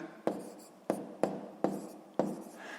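A pen or pencil writes numbers by hand on paper during a sixth-grade math subtraction exercise, five crisp tapping strokes at uneven intervals, close and quiet.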